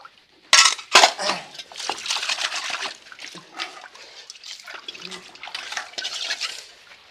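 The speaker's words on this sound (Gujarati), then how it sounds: "આ 2 ઠામડા ધોઈ લઉં" Dishes and utensils are washed by hand, with running water and clattering clinks of metal pots and pans in quick irregular bursts, loudest near the start.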